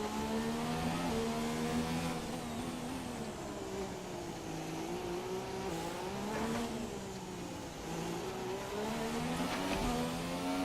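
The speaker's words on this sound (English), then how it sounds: "that's literally the engine slightly falling apart now" A damaged McLaren Honda Formula 1 car engine in the F1 2017 video game at Monaco drones steadily with a rough, uneven tone that wavers and dips, as if straining, continuous for several seconds with no talking.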